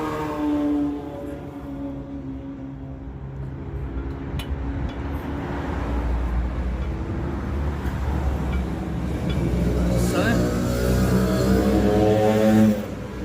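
Two-stroke scooters passing on a sunny street, a steady buzzing engine drone that swells and holds loud for several seconds before cutting off abruptly, with no talk over it.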